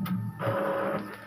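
An Epson L3110 inkjet printer running after a printhead replacement, a close mechanical whir of the carriage and paper feed with a steady motor whine through the short stretch.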